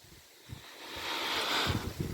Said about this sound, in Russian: Ветер поменялся, как раз ее сюда тянет.